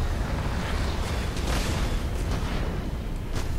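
Fire in the Mass Effect 2 video game: a continuous roaring, rumbling blaze with bursts of crackle, loud and close, sustained for several seconds without speech.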